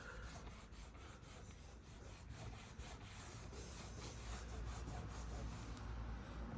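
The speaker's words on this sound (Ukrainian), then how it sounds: "Просто обезжирюємо від старих вітрячків, ось оце затираємо." A car door surface is wiped and rubbed to degrease it after old window deflectors on a Lanos are removed, heard as a faint, close, repeated rasping rub in quick strokes.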